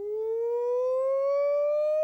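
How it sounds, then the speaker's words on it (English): A fire engine siren giving a single smooth, steadily rising wail, clear and sustained with no talk over it. "That's a fire engine."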